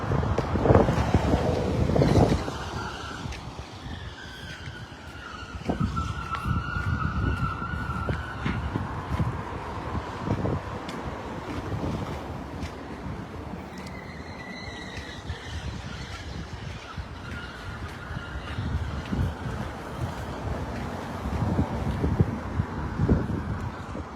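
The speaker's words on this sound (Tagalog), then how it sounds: "Lamig na talaga. Lakas ng hangin." Strong gusting wind buffets the microphone with low rumbling roars, while a distant siren wails faintly in the background.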